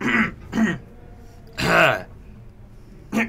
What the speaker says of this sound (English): I've got a cough in my throat